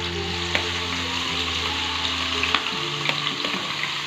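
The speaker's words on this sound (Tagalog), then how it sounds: "Ipiprito natin itong ating tokwa." Tofu frying in hot oil in a pan for tokwa't baboy, a steady broadband sizzle with a few sharp pops and crackles, close and continuous, no talk.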